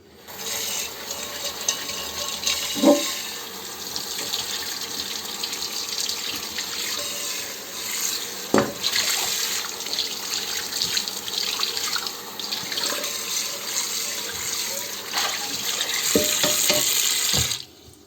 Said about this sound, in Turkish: Şimdi yıkayalım